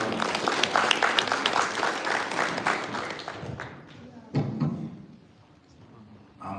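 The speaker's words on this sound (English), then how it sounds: "Give him a applause." Audience applause at a live event in London, a dense burst of clapping from a crowd that fades and trails off over several seconds, with a brief swell near the end.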